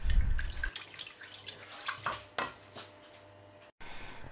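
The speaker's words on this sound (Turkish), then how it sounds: "Elde ettiğimiz bu sosumuzu da yemeğimizin kenarından dökelim." Tomato paste sauce poured along the edge of a pan of eggplant kebab, a faint, soft trickle with small splashes and a few light clinks in a quiet kitchen.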